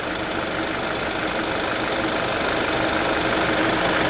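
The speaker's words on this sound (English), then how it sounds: "with the engine running and the AC turned on" A Hyundai Sonata's engine idles steadily with the AC on, humming continuously with a constant broadband whir, close by and with no voices.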